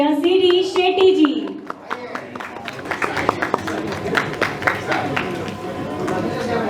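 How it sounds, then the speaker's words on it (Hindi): At the Bollywood Iconic Award 2025 show, an audience applauds guest C.D. Shetty. A voice and tonal sound open briefly, then scattered, uneven clapping builds and carries on, fairly close and moderately loud. "जोरदार तालियां प्लीज"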